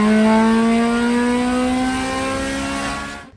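A Honda Civic EK engine revs steadily through a straight pipe exhaust, a loud, raspy, continuous drone that climbs slightly in pitch for about three seconds before cutting off abruptly.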